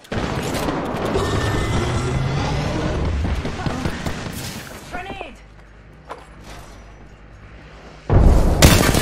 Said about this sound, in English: Launch a knuckle cluster.